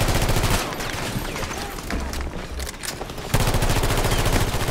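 Rockets and gunfire in a video game: dense, loud bursts of rapid shots at the start and end, with a rougher, quieter stretch of blasts and crackle in between.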